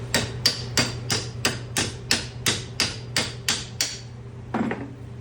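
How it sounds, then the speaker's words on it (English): A hammer beats steadily on stuck brake caliper slide hardware, about a dozen evenly spaced sharp metallic knocks up close, followed by a brief scrape. "This one's gonna take some hammering"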